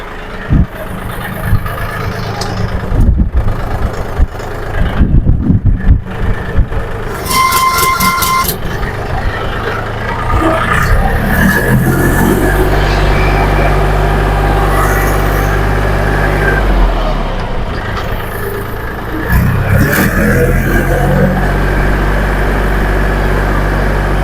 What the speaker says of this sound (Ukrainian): Зараз я відійду трактором.